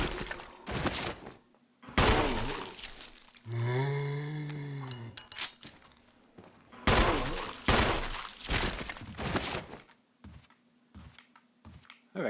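Sharp, separate gunshots from the video game Resident Evil Remastered, loud and spaced irregularly, with a long groaning tonal sound partway through and quieter clicks and thuds between the shots.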